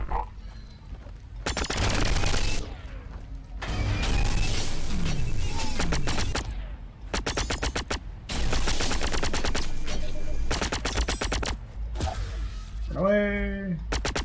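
Gunfire in the video game The Signal From Tolva, with loud bursts of rapid automatic fire alternating with short pauses and a final warbling electronic tone near the end.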